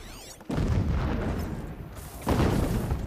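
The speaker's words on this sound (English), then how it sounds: "I should be concerned about explosions nearby, especially if I get caught in the crossfire." Explosions going off nearby in the video game Horizon Zero Dawn, two heavy booming blasts with rumbling, roaring tails, loud and close, with no talk over them.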